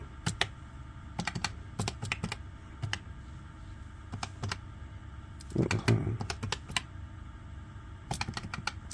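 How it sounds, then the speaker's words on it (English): Typing on a computer keyboard while working through a monthly budget, bursts of quick key clicks separated by pauses, close and fairly quiet, with a brief louder rustle midway. "So let's type this all up."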